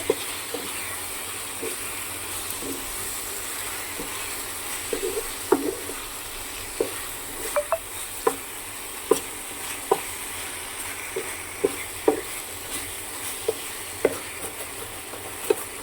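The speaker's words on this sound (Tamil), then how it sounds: "சிக்கன் எடுத்து போட்டாச்சு. அதையும் நல்லா வதக்கி விடுவோம்." Chicken sautéing in a frying pan with a soft steady sizzle, punctuated by a regular series of sharp scraping clicks from a spatula stirring against the pan.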